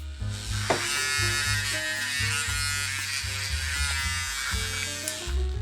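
A Buccasso cordless pen sander runs steadily at close range, giving a continuous high-pitched motor buzz with a few small shifts in pitch and load throughout and no talking.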